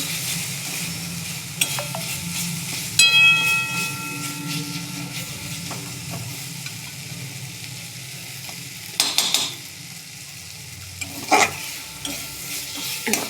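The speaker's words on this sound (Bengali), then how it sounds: "মশলাটা একটু কষিয়ে নেব মশলাটা দিয়ে তেল ছেড়ে এসছে" Spice paste with ginger frying in oil for a potato curry sizzles with a low steady hiss, a spoon stirring and scraping the pan at intervals, close by with no talk.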